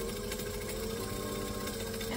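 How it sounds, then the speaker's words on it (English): A sewing machine runs steadily while top stitching a craft tote bag at an eighth of an inch, giving a continuous close mechanical whir with no talking. "I'm going to top stitch at an eighth of an inch."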